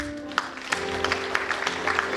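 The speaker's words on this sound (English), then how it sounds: "please, I need you to give a hand of applause for the fundraising committee who have worked tirelessly to bring this event together." A crowd applauds the fundraising committee at the Nkumu Fed DMV 2023 fundraiser event, with steady clapping and a few sharper claps standing out over a low background hum.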